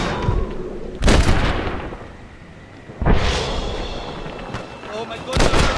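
Gunfire in a Western shootout in Red Dead Redemption, a few loud booming shots spaced about two seconds apart, echoing over background noise.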